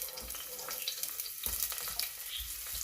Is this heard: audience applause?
no